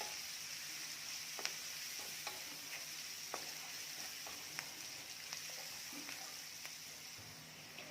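Onion for cabbage bhaji sautés quietly in a pan with a soft, continuous frying hiss, broken by scattered light clicks and scrapes of stirring.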